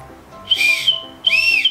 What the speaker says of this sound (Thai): นี่มีนกหวีดด้วยนะเป่าก่ะน